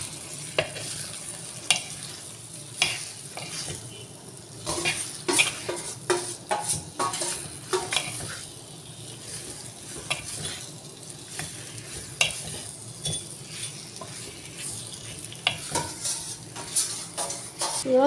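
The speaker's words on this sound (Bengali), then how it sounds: "আদা রসুন একটু ভেজে নিয়ে এর মধ্যে লঙ্কার গুঁড়ো দিয়ে দেব। লঙ্কার গুঁড়ো দিয়ে চিকেন দিয়ে দেব মেখে রাখা।" Chicken with chili powder, ginger and garlic sizzling in a pan while a utensil stirs and scrapes against the metal, steady frying under repeated close clinks and scrapes.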